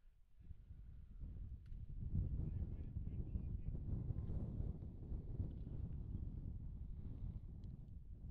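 A strong gust of wind batters the microphone at a high school varsity baseball game, a steady loud roaring rumble that swells after the first couple of seconds and holds to the end.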